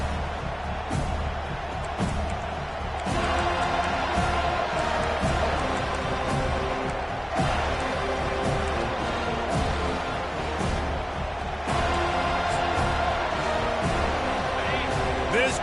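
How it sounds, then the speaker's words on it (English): Loud, continuous roar of a college football stadium crowd at a Florida State versus Wisconsin game just after the opening kickoff, a dense sustained wall of cheering with surges and a commentator talking over it. "This crowd bringing an ear-splitting welcome to their visitors."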